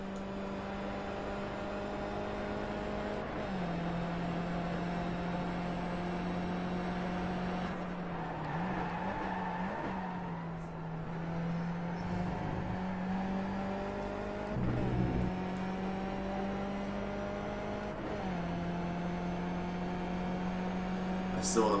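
Race car in iRacing, a Skip Barber lapping Interlagos, its engine a steady whining drone that drops in pitch at shifts and braking, then climbs again, with faint clicks, heard alone at moderate level.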